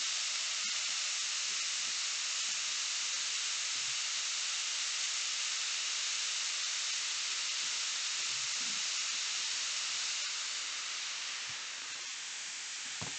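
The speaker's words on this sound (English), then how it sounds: "I'm just going to put the ground beef in there and break it up a little bit." Ground beef for chili sizzles in a pan with a loud, steady, dense hiss that holds throughout and eases slightly near the end.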